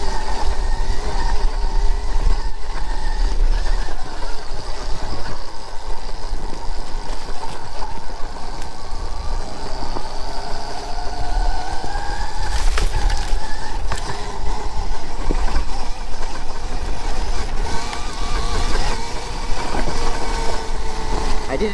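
Stark Varg electric dirt bike riding a mini track lap, with a continuous whirring motor whine that rises and falls in pitch as it accelerates, plus rumbling terrain noise, fairly loud and close throughout.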